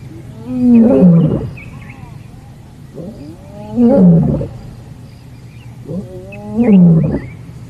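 Lions roar during a live wildlife safari, three deep, drawn-out bouts in a rising and falling series, spaced a few seconds apart and fairly close, with quiet gaps of bush ambience between them.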